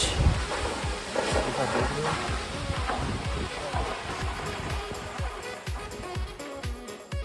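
Meltwater mixed with snow plunges down the Vasundhara waterfall, a steady, loud rushing roar that fills the whole stretch without pause, broken by gusty buffeting against the microphone.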